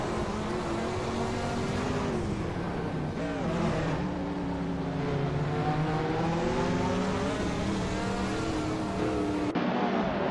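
A 1978 Greenwood Corvette GTX races in a video game, its engine a loud, continuous roar with gear shifts and pitch sweeping up and down, another car droning alongside, cutting off abruptly near the end.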